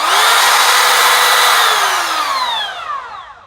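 A Makita XTR01Z 18V cordless brushless compact router spins up, its loud motor whine rising sharply at start and then winding down over a few seconds, heard alone and up close.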